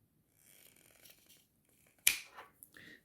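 Scissors cutting a fabric strip for sewing shorts, a faint snipping rustle followed by a sharp, crisp snip and a couple of quieter cuts close by, with no talk.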